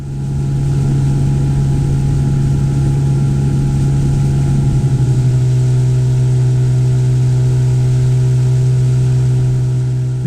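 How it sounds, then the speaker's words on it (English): A Quicksilver 420 rib powered by a 25 horsepower Mariner two-stroke outboard, cruising down a loch with a loud, steady engine drone throughout. The pitch shifts slightly midway and then holds even, with no voices. "my Quicksilver 420 rib, powered by its 25 horsepower Mariner 2-stroke"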